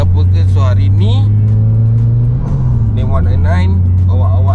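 A turbocharged four-wheel-drive Mitsubishi Evo 5 runs on a dyno, its engine a loud, steady low drone that rises and falls slightly in pitch. People talk over it throughout.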